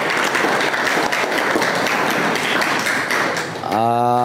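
An audience claps, a dense burst of applause lasting a few seconds in a room at a pesantren gathering before a voice begins speaking at the end.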